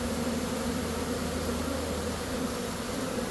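Honey bees in a queen bank hive give off a dense, steady buzz, loud and close, continuous throughout with no talking.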